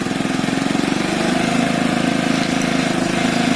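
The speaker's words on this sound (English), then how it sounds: "We've got high beam and low beam, as well as a starting and running engine." A Piaggio Fly moped engine runs steadily up close, a loud rapid putter with an even idling pulse and no talk.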